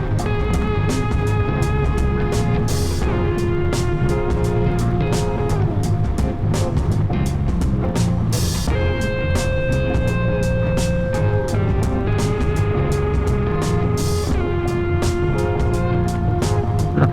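A TMX Alpha motorcycle on a long ride along the Lopez–Gumaca diversion road, its engine droning loud and close throughout, with the pitch stepping up and dropping back through several gear changes.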